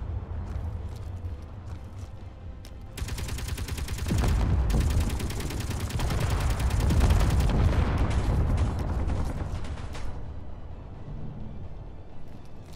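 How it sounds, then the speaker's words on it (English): Explosions in the video game Space Engineers during a drone attack on a planet, a dense rumbling barrage of booms and crackling blasts that builds, peaks in the middle and slowly fades, heavy and continuous with no voices. "What in the world is exploding?"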